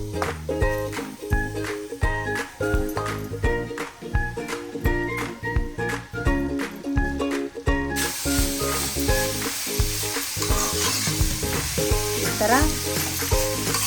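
Chopped carrots for gajar halwa fry and are stirred in a pan, a steady sizzle with scraping strokes that grows into a loud, hissing fry, with background music and brief speech.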